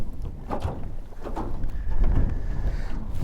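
Strong gusty wind buffets the microphone during a hurricane while trout fishing, rumbling in uneven low blasts that rise and fall without a break.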